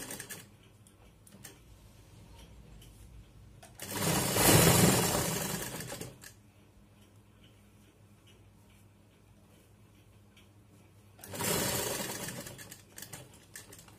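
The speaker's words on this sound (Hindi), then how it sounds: "स्टिचिंग लगाएंगे।" Sewing machine stitching the neck of a kurti, two short bursts of rapid mechanical whirring and clatter separated by a quiet stretch with faint handling ticks.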